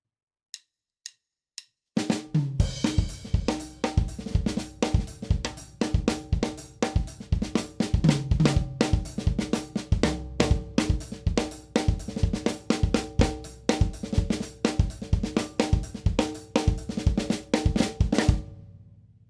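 A drum kit plays a busy, driving samba groove with dense snare and tom fills, starting after a few sparse clicks, steady and loud throughout.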